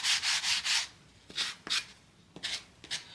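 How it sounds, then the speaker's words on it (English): A fine sanding pad rubs briefly over waxed wood on a small castle box, several quiet back-and-forth scuffing strokes in short bursts with pauses between, close and soft. "So I've already waxed it, so I'm going to take the fine sander."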